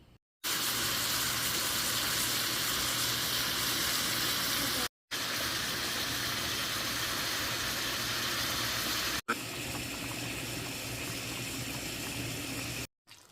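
Green onion and sweet peppers sauté in a pan for an oyster mushroom stir fry, giving a loud, steady sizzle in three unbroken stretches separated by short cuts, with no voices.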